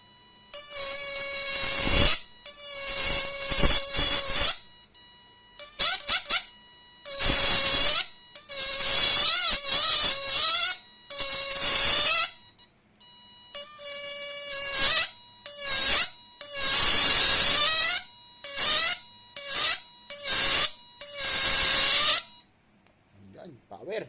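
A homemade 3-amp, 10-transistor device with butterfly-knot wire throws repeated loud electric sparks. Harsh buzzing, crackling bursts lasting one to two seconds come one after another, close and dominant with brief silences between them.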